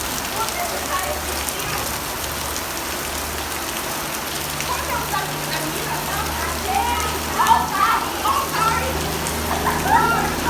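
Steady rain falls outdoors, a dense continuous hiss of drops on surfaces close around, with people talking faintly underneath.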